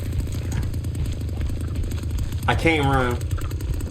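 A chainsaw runs with a steady, droning rattle throughout in the Texas Chainsaw Massacre video game. Someone speaks over it partway through.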